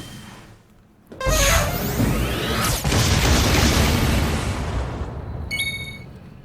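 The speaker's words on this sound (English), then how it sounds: "Blows away all enemies with an unimaginably enormous explosion." A huge, booming spell explosion from a video game bursts in with a loud swoosh and sustained roaring rumble that slowly decays, followed by bright chiming magical tones near the end.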